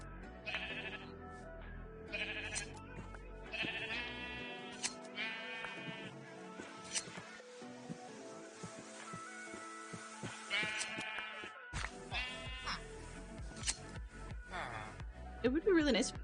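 Sheep bleating repeatedly in Minecraft's Vault Hunters modpack, several wavering calls over layered game music and sound effects, with talking heard throughout.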